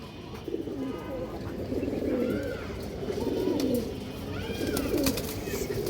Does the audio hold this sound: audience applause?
no